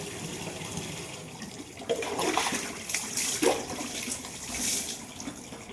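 Running water from an outdoor shower splashing and gushing in uneven bursts, rising and falling over several seconds, close by with no voices.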